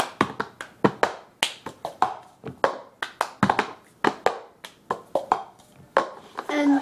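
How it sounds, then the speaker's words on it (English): Pitch Perfect cup song rhythm played by hand, a crisp steady pattern of claps, taps and hard knocks of a cup on a table, repeating close and clear with no voice. "tap, tap, tap, clap, move it over, clap, hit your hand, bottom, twist, grab, hit your bare hand, and then hit the hand with the cup"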